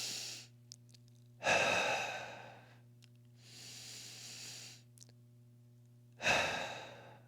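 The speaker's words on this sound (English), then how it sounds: "I'm gonna cycle some breaths here. Big breath and then exhale." Deep breathing during a mobility exercise, with three strong, close inhales or exhales separated by a softer breath, each swelling and fading over a faint steady hum.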